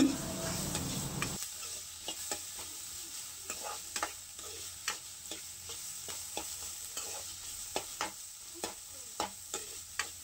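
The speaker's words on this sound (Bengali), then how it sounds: "বাঁধাকপি, পেঁয়াজ এবং লঙ্কাটা আমি ভালো করে সুন্দর করে ফ্রাই করে নিচ্ছি।" Cabbage, onion and chili fry in a pan with a steady sizzle, punctuated by a regular series of sharp spatula scrapes and taps as the mix is stirred, with no talking.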